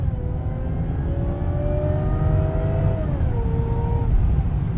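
Supercharged V8 in a TOM'S Racing Toyota Celsior revving from inside the moving car, a loud, continuous engine drone whose pitch climbs steadily, then drops and levels off, over a heavy low rumble.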